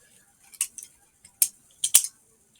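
Clicks and metallic clacks from a balisong butterfly knife being flipped through a trick, a few sharp, close taps spaced irregularly with quiet gaps between them.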